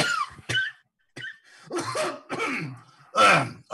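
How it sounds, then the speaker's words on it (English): Several harsh coughs come in short bursts with brief pauses between them, close and fairly loud, mixed with throaty vocal sounds. "a cough, sir"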